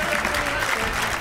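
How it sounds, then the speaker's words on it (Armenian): An audience on an Armenian sports talk show claps for a guest named Gor, producing dense, sustained applause from a small crowd that fills the whole moment at steady volume. "Ծափարենք Գոռին։"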